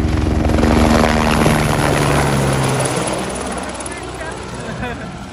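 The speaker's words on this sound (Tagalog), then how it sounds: "It's a helicopter." Loud, steady rotor chop from a helicopter passing above the Hollywood Sign hiking trail in California, strongest at first and gradually fading as it moves away, with voices talking over it.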